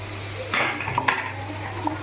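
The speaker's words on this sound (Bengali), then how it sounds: "এবার আমি এখানে আলুগুলো দিয়ে দিলাম" Raw potatoes tipped into a pan of hot spiced oil while cooking a Bengali tengra fish curry, giving a couple of sharp clattering knocks and a brief sizzle against a steady low kitchen hum.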